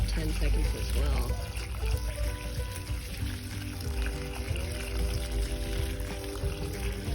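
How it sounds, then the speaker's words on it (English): Water pouring from a hose or can onto garden plant soil for about ten seconds in summer heat, a continuous close splashing gush with a person talking over it. "we're gonna go ahead and water them for about 10 seconds as well"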